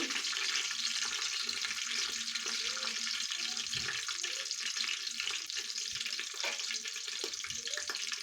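Mustard seeds and cumin spluttering in hot oil for masala bhaat, a steady broad sizzle with scattered small pops and crackles, moderately loud and continuous throughout.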